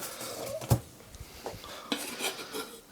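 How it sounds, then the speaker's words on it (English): Knife chopping green beans roughly on a board, a few sharp, uneven knocks and scraping clicks close by, quiet between strikes. "And just chop them roughly, really."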